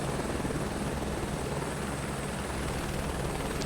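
A helicopter flies over the Lahaul and Spiti valley, its engine and rotor making a loud, steady, unbroken drone throughout, with no voices.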